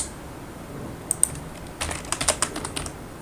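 Keys clack on a computer keyboard as a word is typed into a spreadsheet cell: a quiet opening, then a brief burst of close, light clicks in the second half.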